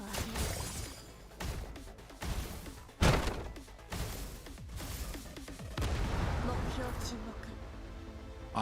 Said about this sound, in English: He just exploded.